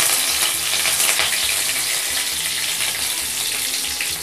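Curry leaves frying in hot oil right after mustard seeds splutter, for a Tamil beetroot poriyal tempering: a loud, steady close-up sizzle with crackling bursts and faint stirring, no talk.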